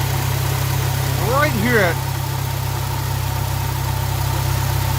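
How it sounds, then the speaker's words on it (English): The engine of a supercharged Subaru BRZ / Toyota GT86 idles steadily and quietly while warming up, a low even hum heard close, with someone speaking briefly over it. "just letting it warm up a little bit. She's super quiet, the supercharger."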